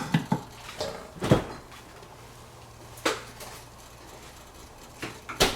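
A vegetable mix is stirred in a hot pan with mussels and pasta being prepared, producing a handful of sharp utensil clinks and scrapes against the pan, spaced irregularly over a low, steady background hum.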